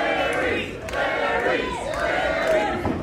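A wrestling crowd packed into a community rec room roars and shouts together, a loud, rolling mass of voices that swells and dips but never drops out.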